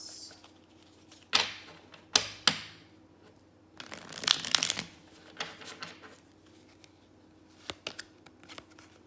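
Tarot cards being shuffled hard during a card reading, crisp riffling bursts and sharp snaps at irregular intervals with a clustered run of shuffling in the middle, close over a quiet hum.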